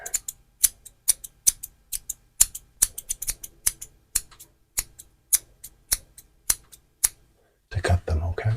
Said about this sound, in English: using these scissors here.